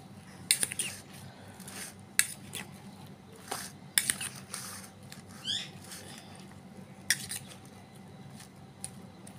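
Fruit salad with pomegranate seeds being mixed in a small bowl, heard as scattered clicks and light scrapes of a utensil against the dish along with soft wet squishes, quiet and with no talking.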